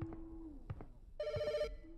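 A telephone rings in a horror video game set on a cleanup job, with a short burst of bright electronic trilling standing out over low ambient hum and a few soft thuds, moderately loud and with no talking.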